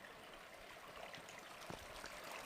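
A stream flowing through a mountain valley in front of a rural home at night, a steady soft rush of water with faint trickles and splashes, heard from a short distance.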